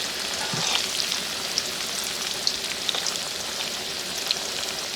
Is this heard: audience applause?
no